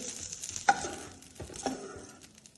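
Chopped bell peppers stir-frying in a pan, a quiet steady sizzle broken by a few sharp scrapes and knocks of a spoon against the pan.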